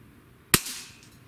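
A single sharp shot from a Diana LP8 Magnum Tactical Carbine .177 breakbarrel air rifle cracks out once and fades quickly, with no other sound around it.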